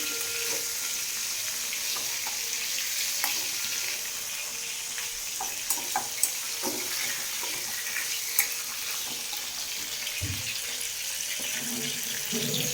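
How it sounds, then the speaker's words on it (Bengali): Continuous crackling sizzle of fish frying in a pan, with scattered pops and light clinks, close and fairly loud, no talking. "মাছটা ভেজে নিচ্ছি"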